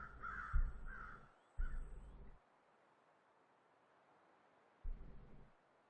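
Crows in the survival game The Long Dark let out three bursts of harsh cawing, two close together and one after a pause, fairly near and clear over a quiet hiss of ambience.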